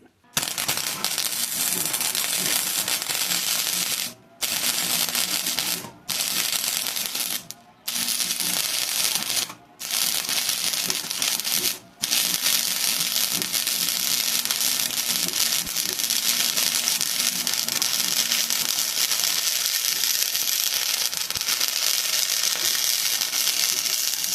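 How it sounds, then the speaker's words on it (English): Welding on a lawn tractor spindle for an LT1000 mower deck, a loud, close, continuous crackling buzz broken by several short pauses between beads, then running steadily without stopping, with no talk. "So, let's go ahead and weld that thing up."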